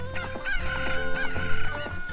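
Chicken-like cuckoos from The Legend of Zelda: Ocarina of Time let out shrill, warbling squawks and clucks in quick bursts over a low game background.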